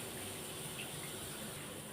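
Fish being washed in water with rock salt and turmeric, a steady splashing and rushing of water close by, continuous throughout with no talk.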